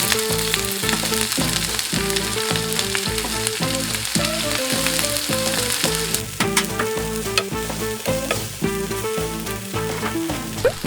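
Sliced onions are stir-fried in a pan with a loud, continuous sizzle. Frequent rhythmic scraping and tossing strokes run through it, and no voices are heard.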